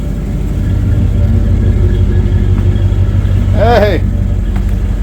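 A rebuilt 5.9L Magnum V8 in a Dodge Durango idles in gear with a steady, close, loud rumble. People talk over it, and one voice briefly rises in an exclamation.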